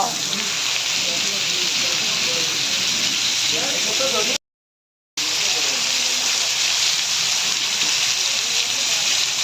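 Steady, dense hiss of heavy rain pouring down, continuous apart from a short cut to silence midway, with faint voices beneath.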